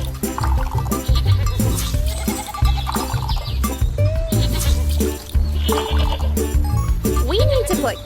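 A cartoon goat bleats repeatedly in a preschool farm-animal game, loud and close, mixed with bright game music and playful sound effects.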